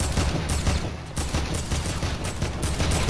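Gunfire during a gunfight in the video game Fortnite Battle Royale: dense, continuous rapid shots and impacts crowd the whole short stretch at a loud, steady level.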